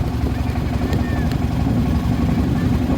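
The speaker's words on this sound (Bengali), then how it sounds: "না যুদ্ধ জাহাজ নয়, পর্যটকদের বহনকারী একটা জাহাজ, নৌ জাহাজ চলে আসছে এদিকে।" A tourist boat approaches across the Tanguar haor wetland, its engine a loud, steady low rumble that fills the scene without a break.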